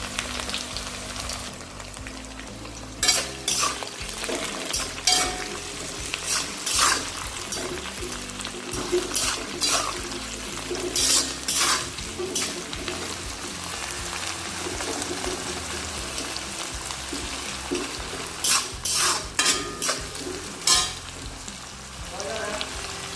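Onions and green chillies sizzle and fry in a pan as a spoon stirs them, a steady crackling hiss broken by repeated scraping, clattering stirring bursts, fairly close and moderate in level, with no talking.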